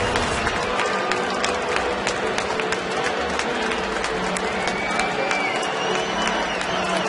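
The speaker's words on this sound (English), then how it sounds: "the Braves fans here in Atlanta, many of them applauding the return of former farmhand and Brave star Kelly Johnson tonight" Baseball crowd at an Atlanta Braves home game applauding and cheering steadily after a home run, a dense, continuous wash of clapping and crowd noise at moderate distance, with scattered voices in the crowd.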